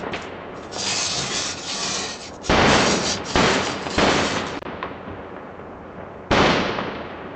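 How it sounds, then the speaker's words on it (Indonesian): Cannon fire in a naval battle against pirates, heard as heavy booming blasts in repeated bursts with rumbling decay, several loud volleys separated by short lulls. "Meriam sedang beradu, dan laut bergolak karena intensitas konflik."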